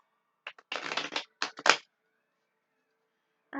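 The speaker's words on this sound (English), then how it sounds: "I'm going to shuffle one more time" A tarot card deck is shuffled up close in quick bursts of riffling and flicking, with several short runs clustered together, then a pause, and another shuffle starting at the end.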